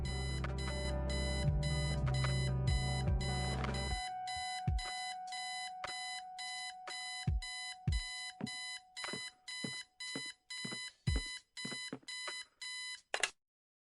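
An alarm clock rings in the video game Kathy Rain, a loud, steady run of bright electronic beeps over a busier musical bed at first, then alone in evenly spaced bursts for about ten seconds before stopping.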